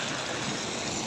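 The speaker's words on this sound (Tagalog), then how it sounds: "Lakas ng ulan" Heavy rain pours down in a steady, dense, loud hiss that fills the whole moment without a break, with no voices.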